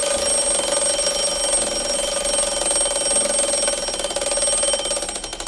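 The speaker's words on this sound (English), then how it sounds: "And the alarm will go until it runs out." The mechanical alarm bell of an E.N. Welch gingerbread clock rings loudly and continuously until it runs down, a rapid metallic clatter that begins to falter near the end.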